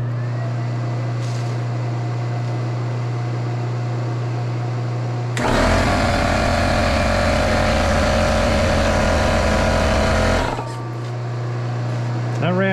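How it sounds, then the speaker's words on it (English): A 12V air compressor powered by a LiFePO4 battery starts up over a steady electrical hum, running as a loud, rough, rattling drone for about five seconds and then cutting off. "Now I'm going to turn on an inductive load and see if it can start the air compressor."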